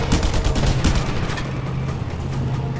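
Gunfire in the action video game Just Cause 2, aimed at a car tire during a chase, arrives as a loud burst of rapid crackling shots over rumbling engine and low booms, with no speech.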